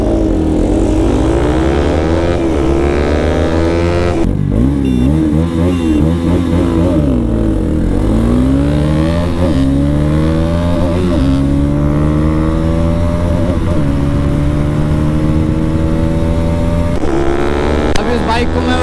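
Bajaj Pulsar NS200 motorcycles, a BS6 and a BS4 model, racing flat out at top speed, their engines holding a loud, steady high-revving drone with shifting pitch sweeps throughout.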